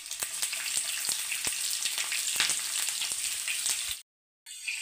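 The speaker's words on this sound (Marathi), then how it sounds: "मोहरी छान अशी तडकू द्यायची आहे." Mustard seeds sputter and crackle in hot oil while tempering for methi gota and Gujarati kadhi, a dense run of sharp pops over steady sizzling, close and continuous, then a brief cut near the end.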